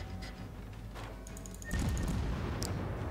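Naval gunfire in the video game World of Warships: a sharp burst of heavy cannon booms with a sudden loud low-end blast partway through, over a steady engine and sea rumble.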